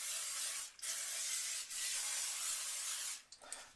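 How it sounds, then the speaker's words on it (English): Three bursts of Pam cooking spray greasing a springform pan hiss loudly, each lasting about a second with brief pauses between, close up. "I use a Pam kitchen spray here"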